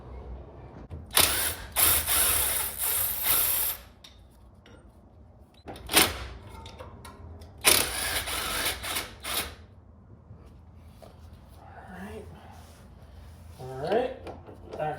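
A ratchet wrench loosens the half shaft bolts on a car, several bursts of quick metallic clicking up close with pauses between, and someone speaking intermittently.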